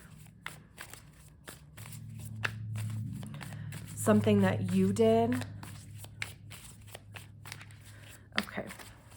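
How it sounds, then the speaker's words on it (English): Rapid papery riffling and soft slaps of tarot cards being shuffled, close and ongoing, with someone talking briefly in the middle. "we're shuffling a million times here"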